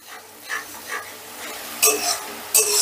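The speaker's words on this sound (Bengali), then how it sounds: "মশলাটা বেশ ভালো করে কষে নিয়েছি।" Tomato masala gravy being sautéed in a pan over a full flame, with soft stirring scrapes and a low sizzle, plus sharper spatula strokes near the end.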